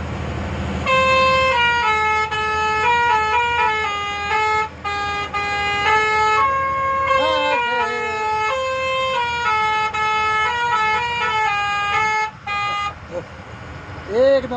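A bus's musical horn plays a melody as a long run of bright, sustained tones with short breaks, loud and close, with a few brief voice sounds over it.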